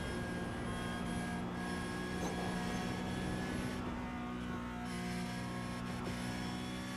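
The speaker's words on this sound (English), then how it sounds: "appreciate and hear the sound of the throttle input" A Porsche Cup race car in the iRacing simulator at Bathurst holds full throttle, making a steady, dense engine drone that stays loud and unbroken throughout, with no talk.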